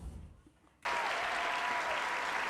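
After a brief quiet moment, loud sustained crowd applause in the FC24 football video game suddenly starts and continues steadily.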